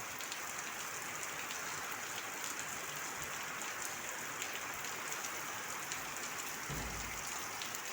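A heavy downpour on a rainy morning roars as a constant, close wash of drops, with a brief low thump near the end and no one speaking.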